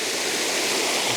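The Water-breaks-its-neck waterfall, recorded from close by. It gives a loud, steady, full-bodied rush of falling water that stays constant throughout.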